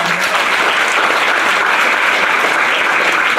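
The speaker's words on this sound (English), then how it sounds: "A big round of applause for her" An audience at a Hindu women's conference session gives a panelist a big round of applause, loud sustained clapping from many hands that fills the room evenly from start to finish.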